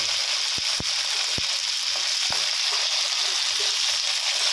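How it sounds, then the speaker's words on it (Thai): Rice noodles frying in a little oil for Thai kua gai chicken noodles, a constant bright sizzle with a few sharp spatula taps against the pan, no voices. "ใส่น้ำมันไปหน่อยนะครับ ผม อ่าแล้วก็นำเส้นก๋วยเตี๋ยวลงไปทอดนะครับ"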